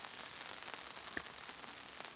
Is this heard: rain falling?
yes